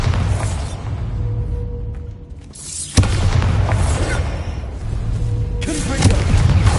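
Bombarda blasting spell explosions in Hogwarts Legacy, deep booming blasts with a sharp loud crack near the midpoint over a dense rumbling battle din, a spoken voice faintly present.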